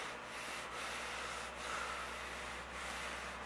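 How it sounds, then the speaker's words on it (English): Hand sanding on the body of a 1986 GMC pickup, a faint, even rubbing scrape with a few brief pauses between strokes, close and alone. "I may need to sand just a little more"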